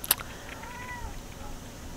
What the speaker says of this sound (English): my kitty's gonna say hello too.